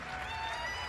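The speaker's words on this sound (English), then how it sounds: "Give a big round of applause to your champion." Brief, fairly quiet applause from an archery tournament audience in a Las Vegas hall, celebrating the women's recurve champion; a steady patter of clapping without breaks.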